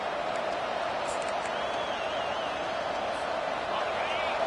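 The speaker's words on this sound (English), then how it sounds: "Listen to this crowd just shaking the girders of this place, trying to help their defense." Large crowd roaring continuously at an American football game in a stadium, a dense, steady wash of noise with occasional whistles, heard from a distance under a commentator's voice.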